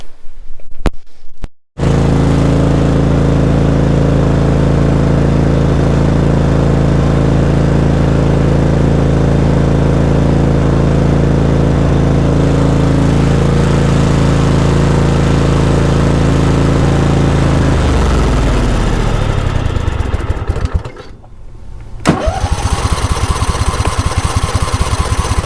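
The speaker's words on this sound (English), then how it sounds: "We'll start the engine up now, since everything has been redone, just to make sure nothing's leaking." An engine with a freshly redone fuel system runs at a steady, loud idle for about twenty seconds, then winds down and stops, followed by a brief pause and a sharp mechanical sound.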